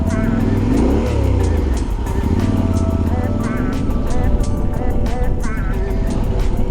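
Adventure motorcycles ride a gravel track that turns to mud. Their engines drone and rev loudly up close with rising and falling pitch, and rapid rhythmic ticking and spattering runs throughout, with a voice talking over the top.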